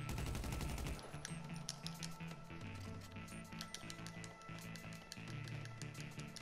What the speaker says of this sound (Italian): Guarda che rumore! Cannone a rotaie!